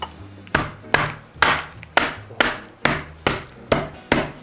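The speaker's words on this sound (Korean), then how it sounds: "이렇게 해서 망치 같은 걸로 부셔주는" Seven sharp, evenly spaced thuds of a mallet smashing cucumber on a board, each a crisp knock with a short woody ring, close and fairly loud.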